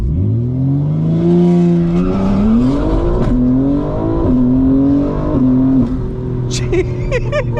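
A 900 hp 2025 BMW M4 Competition xDrive launching at night: a loud, close engine roar climbs in pitch through the revs, dips briefly, climbs again, then sharp chirps near the end.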